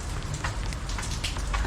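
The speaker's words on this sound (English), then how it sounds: "Welcome to a very, very wet, rainy morning here in Jakarta," Heavy rain pours steadily on a wet morning in Jakarta, Indonesia, a dense, continuous hiss of drops spattering on surfaces, close and loud with no voices.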